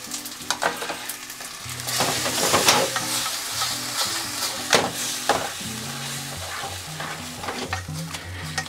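Napolitan pasta in ketchup sauce is stirred in a hot pan after pasta cooking water goes in, with steady crackling sizzle and repeated scraping, tossing clatters of a utensil against the pan.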